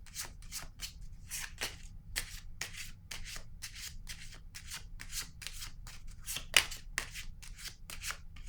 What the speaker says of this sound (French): Je vais déposer une carte sur le bon monsieur.